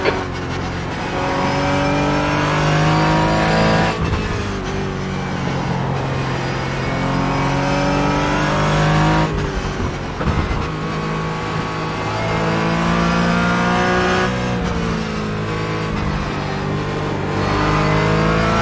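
A Porsche Cayman GT4 engine in a sim racing game on the Nürburgring, a loud steady drone that climbs and falls through gear changes and revs without pause, with no voices.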